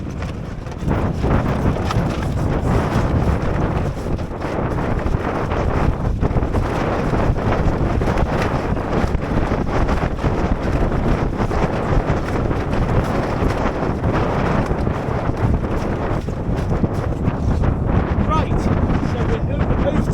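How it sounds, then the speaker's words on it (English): Steady wind roars over the open water while sailing a Drascombe Lugger, a continuous loud buffeting with rustling and gusts throughout, with faint sounds of the boat beneath. "So you can see the wind is coming from this way"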